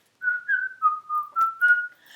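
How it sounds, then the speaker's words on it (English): A person whistles a short, bright melody of six or seven distinct notes, clear and close with no other sounds. "I can whistle while I work."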